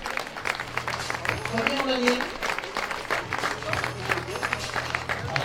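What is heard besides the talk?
audience applause at race award ceremony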